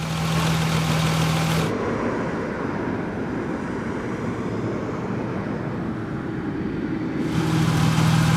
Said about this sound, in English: The motor's warming up a little bit